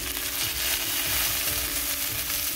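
Fish sears in a hot pan with a loud, continuous broadband sizzle that stays even and close throughout, no voices.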